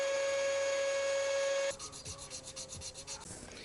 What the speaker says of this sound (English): This time I'm gonna be using this and then probably just sandpaper,